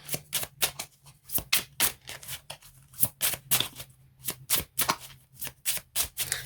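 Tarot cards being shuffled by hand in steady rhythmic bursts, each a quick crisp riffle or slap, repeated a dozen or more times up close with no talking.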